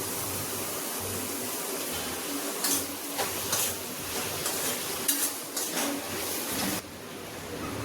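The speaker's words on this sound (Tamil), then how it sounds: "எல்லாத்தையும் சேர்த்து ஒரு 5 நிமிஷம் நல்லா வதக்கலாம்" Chopped vegetables sauté in a hot pan with a steady crackling sizzle and hiss, broken by a few sharp scraping clinks of a spatula against the metal.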